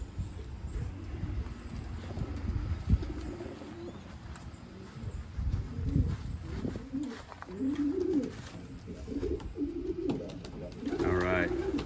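Young pigeons on a loft landing board give soft, low cooing calls in scattered bursts, fairly faint against an outdoor background hum, with a voice talking now and then.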